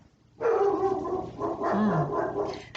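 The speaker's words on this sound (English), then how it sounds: "My dog's barking." A dog barks close by indoors, giving a loud sustained burst of barking with a growly yip toward the end that cuts off sharply, with no talking over it.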